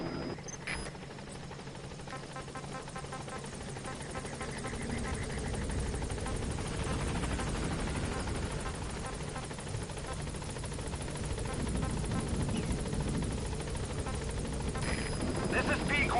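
Pequod, a rotor helicopter in Metal Gear Solid V, arriving at a landing zone, its steady whirring drone rising slightly and holding loud and continuous with a faint mechanical buzz.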